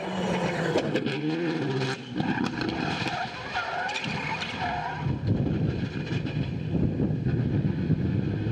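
A rally car spins a full 360 in fourth gear at the Argyll Rally in Dunoon, tyres skidding and engine roaring, then revving and scrabbling away, loud and close with no voices.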